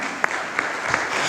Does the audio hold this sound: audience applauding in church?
yes